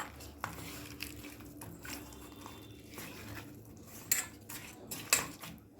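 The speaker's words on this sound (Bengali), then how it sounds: "এবারে পরিমাণ মতো লবণ দিয়ে মাছগুলোকে আমি খুব ভালোভাবে লবণ আর হলুদ মাখিয়ে নেব।" Snakehead (shol) fish being rubbed by hand with salt and turmeric in a bowl: soft, muffled handling under a steady room hum, with a couple of sharp clinks against the bowl near the end.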